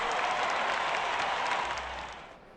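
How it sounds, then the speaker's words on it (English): A broad crowd cheer rising from Yankee Stadium during a simulated 1962 Mets versus 1998 Yankees game in OOTP18 baseball, a steady roar of applause and voices that tails off toward the end. "A cheer rises up from Yankee Stadium."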